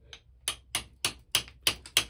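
A hammer drives a carbide-tipped carving tool into rock, delivering seven crisp, evenly spaced metallic strikes at close range, each ringing briefly before the next blow lands.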